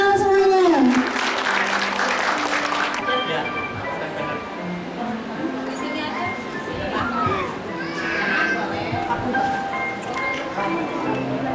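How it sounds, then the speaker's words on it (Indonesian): Applause from a crowd at a GoFood partner community meetup, with children's voices and chatter mixed through and a louder burst in the opening seconds. "Tepuk tangan semuanya"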